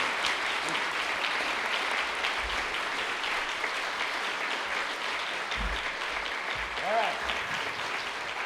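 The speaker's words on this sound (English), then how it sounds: "See, now you got your applause." A church congregation claps during Sunday worship, a broad, even applause filling the room with a few faint voices and brief low thumps mixed in.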